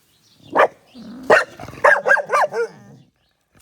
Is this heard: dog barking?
yes